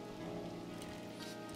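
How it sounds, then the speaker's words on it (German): Steady rain patters down in the survival video game 7 Days to Die, a dense, even hiss of drops on surfaces holding at a constant level for the whole short stretch, with no voices. "Ich bin nass, warum? Weil es regnet."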